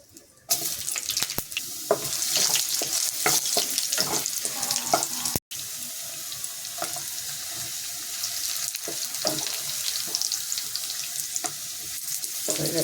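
Potato pieces fry in hot oil with whole cumin, bay leaves, whole garam masala and dried red chillies, making a steady, fairly loud hissing sizzle that begins abruptly, drops out for an instant midway, then carries on.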